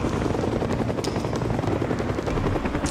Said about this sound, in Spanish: ¡Ya viene pues otro helicóptero para rescatarnos!